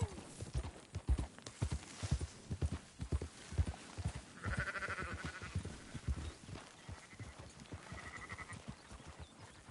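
Horse hooves clip-clop steadily alongside bleating sheep as livestock are herded in Red Dead Redemption 2, with several bleats rising over the continuous hoofbeats.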